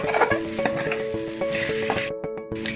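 Scrambled egg stir-fried with vegetables in a pan for roadside-style chicken fried rice, a loud close sizzle broken by rapid spatula scrapes and clinks.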